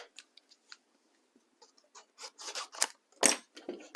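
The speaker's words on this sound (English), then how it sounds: "So I'm going to go ahead and cut." Scissors snipping through stamped ladybug paper pieces for a card, faint scattered clicks at first, then a denser run of close crisp cuts and rustling paper.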